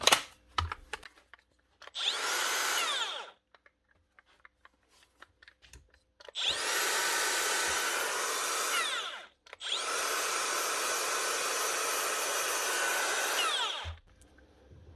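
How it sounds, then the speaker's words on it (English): A repaired Makita angle grinder spins up in three bursts, each a loud, steady high-pitched whir that winds down, the last two running several seconds each, with small clicks and handling noises between. "So that's the grinder."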